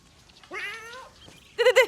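A cat gives two meows indoors: a longer drawn-out call followed by a shorter, louder, sharper one, close and clear with no talk.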